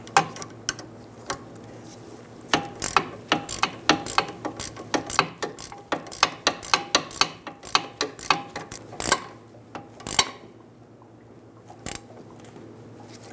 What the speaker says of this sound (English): We're going to use a 15mm wrench to snug down the nut.